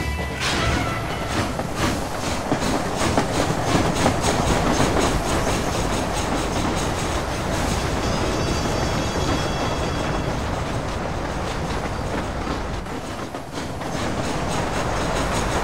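A train in the game Red Dead Redemption rolls along the rails with a loud, steady rumble and rhythmic clickety-clack of the wagons, continuing throughout with no talking.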